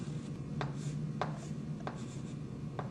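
A marker or chalk writing on a board during a lecture, heard as four short, evenly spaced strokes over a steady low hum, close and fairly faint.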